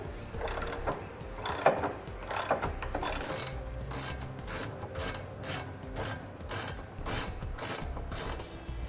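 Hardware being worked loose from a 2017 Chevrolet Silverado truck frame while removing a TorkLift SuperHitch Magnum receiver, heard as steady rapid ratcheting clicks in repeated bursts, close and fairly loud, with no talking.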